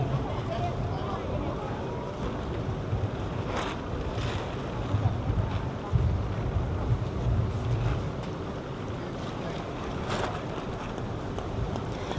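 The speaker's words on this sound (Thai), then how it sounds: "อันนี้ก็คือเป็นบรรยากาศที่ฟ้าลมหลายแหงเนาะ" Strong wind buffets the microphone outdoors at a large Buddhist cremation ceremony for a senior monk in Laos, a steady loud rumbling roar. A voice talks over it throughout.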